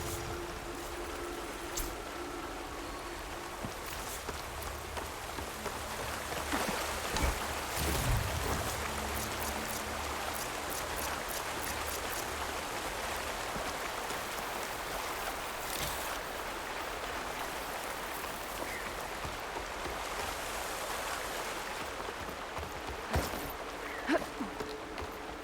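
Steady rain falls in the video game Horizon Forbidden West, a constant hiss of drops on the ground with a few brief clicks and thumps over it, continuous and moderately loud.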